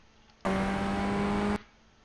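A race car in the iRacing sim at Oulton Park roars close and loud for about a second, its engine note holding strong and steady before cutting off sharply.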